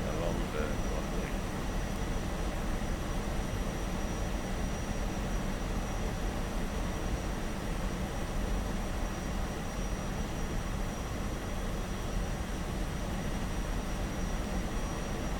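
MiG-15 jet in the DCS flight simulator game, a steady broadband engine roar that holds constant and loud throughout, with no clear changes in pitch.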